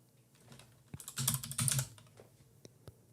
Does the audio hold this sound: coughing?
no